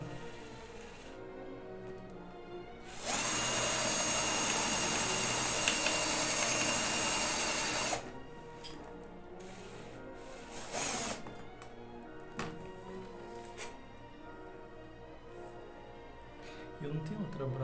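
A power drill bores through an aluminium flight case with a bent drill bit, giving a loud high whine for about five seconds and then a shorter burst, with quieter handling clatter and clicks between them.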